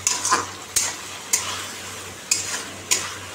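Spices and tomato frying in a pan, a steady close sizzle broken by five sharp scraping stirs at uneven intervals, with no talking.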